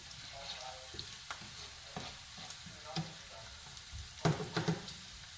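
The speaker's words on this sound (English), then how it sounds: "So keep stirring to avoid it from burning" Greens fry in a pan while being stirred, giving a low continuous sizzle broken by soft utensil scrapes and taps, with a cluster of louder knocks near the end.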